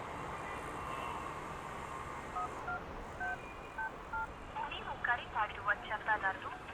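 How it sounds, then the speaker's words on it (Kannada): A phone number is dialed, with a rapid series of short, distinct keypad tones rising above a quiet background hum, growing denser toward the end. "ಅವ್ರ ನಂಬರ್ ಇದ್ರೆ ಫೋನ್ ಮಾಡಿಕೊಡು"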